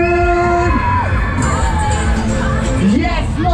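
Riders scream and shout together on a Sonacase Twister fairground ride at a spring fair, a loud continuous crowd din with rising whoops over music.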